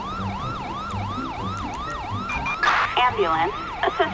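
Wailing ambulance siren from GTA 5, sweeping up and down in a steady repeating cycle, loud and close, with brief bursts of other traffic noise near the end.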